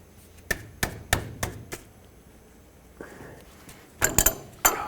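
A 27mm wrench loosens the tie rod adjusting sleeve nut on a 1997-2003 Ford F-150, giving a series of sharp metallic clanks and knocks, irregular and close, with quiet gaps between.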